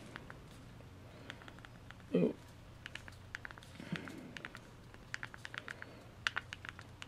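Quick, light clicks of thumbs tapping the small physical QWERTY keys of a Motorola Droid 4 phone, irregular and close, over a steady low background hum with a couple of soft rustles.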